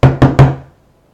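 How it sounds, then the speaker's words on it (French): Three hollow raps on a door in fast succession, loud and close, each with a woody resonance that fades into silence, no voices. "on tape à la porte"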